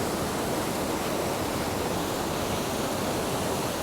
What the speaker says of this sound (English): we saw this amazing waterfall system going on here